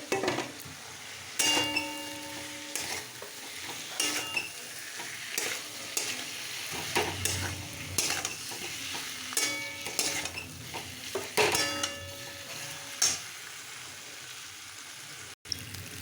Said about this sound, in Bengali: এবার ওলগুলোকে দিয়ে ভালো করে কষে নেব